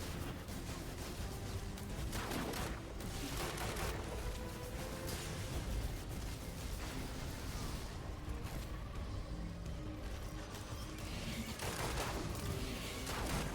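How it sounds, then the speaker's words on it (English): Sustained gunfire rakes toward the player in a Destiny 2 campaign fight, a dense, continuous clatter of shots and impacts layered over busy combat noise. It stays steady and loud throughout, with no talk. "Who else is shooting me?"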